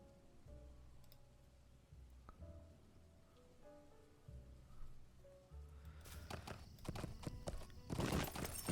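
Horse hooves clip-clop in Lord of the Rings Online as a rider mounts and heads for the crafting hall, a steady close trotting rhythm over game music that swells into a noisy, rain-like wash near the end.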